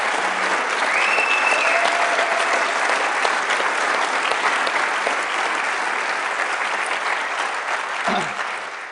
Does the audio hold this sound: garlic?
no